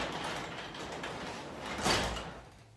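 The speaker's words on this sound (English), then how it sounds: "Let me shut the garage door." Garage door sliding shut with a steady mechanical rumble that builds to a louder clunk near the end and then fades, heard alone without talk.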